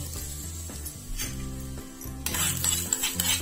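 A spoon stirs hot tempering into a bowl of grated carrot salad, with soft scraping and clinking against the bowl over a faint sizzle, ending in a brighter burst of stirring.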